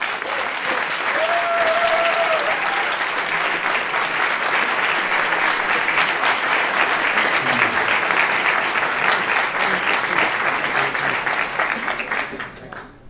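Sustained audience applause at a German chemistry science slam, the crowd clapping to vote for the second-place finisher, a guest from Austria; dense, loud and steady, fading out near the end.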